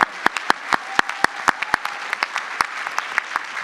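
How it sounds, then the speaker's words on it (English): Sparse, scattered applause from a convention panel audience at PAX East, sharp individual claps spaced irregularly, fairly close and unaccompanied by talk. "give yourselves a round of applause"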